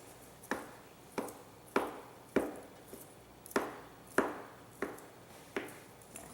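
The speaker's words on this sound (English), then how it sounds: "My Italian sausage is sliced for the jambalaya" Knife slicing through vegan Italian sausage on a cutting board, nine crisp chops in a steady, evenly spaced rhythm, close and clear over a quiet kitchen background.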